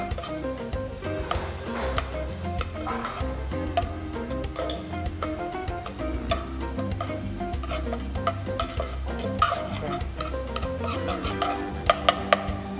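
Butter melts and is stirred in a pan for a soup, giving a steady soft sizzle with scraping stirring strokes, accompanied by continuous tonal background music throughout.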